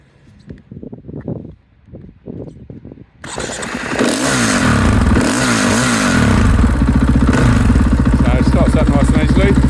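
A road-registered KTM EXC 500 Six Days enduro motorcycle with an Akrapovic exhaust starts after a few cranking bursts, then settles into a loud, steady, close idle that keeps running to the end.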